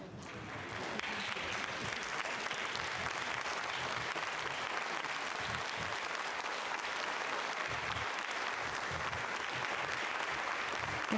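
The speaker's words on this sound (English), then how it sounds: "Getting some clapping here in the Mission Control Center." Steady applause fills a mission control room after a Vega C rocket launch, sustained clapping from many people at moderate level without a break.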